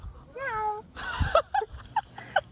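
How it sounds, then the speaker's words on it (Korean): A cat meows several times up close, a long rising call followed by shorter chirping meows, with a person talking in between. "고양이가 뭐 배고픈가 봐 온다"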